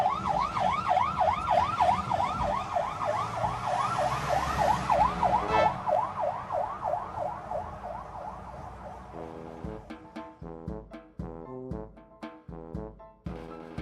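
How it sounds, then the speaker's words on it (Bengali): A police car siren wails in a rapid, rising and falling cycle as the vehicle drives along a road and passes, loud at first and then fading. Traffic noise and a few sharp knocks follow in the second half. "রাস্তা দিয়ে হঠাৎ পুলিশের গাড়ি সাইরেন বাজাতে বাজাতে চলে গেল শ্মশানের দিকেই।"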